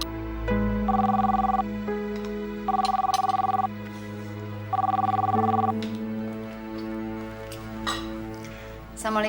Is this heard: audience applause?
no